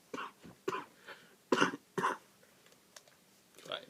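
Several short, sharp coughs, spaced irregularly, fairly close and moderately loud, with brief quiet gaps between them.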